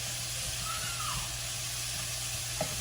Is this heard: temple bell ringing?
no